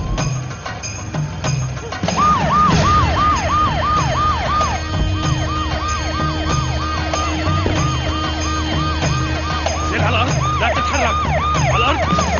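An ambulance siren wails loud and close in a rapid repeating up-and-down pattern over a rumbling engine, continuing steadily for several seconds.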